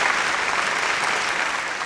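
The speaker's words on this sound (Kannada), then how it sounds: "ಬರಲಿ ಜೋರಾದ ಚಪ್ಪಾಳೆ." A studio audience at a Kannada television quiz show special episode claps loudly and steadily throughout a short burst of applause, with no voices above it.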